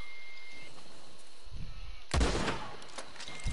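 A mine struck by a sniper shot explodes in a shooter game: a sudden sharp blast with a broad crackling burst that follows a low thump and quieter ambience, fading out within about a second.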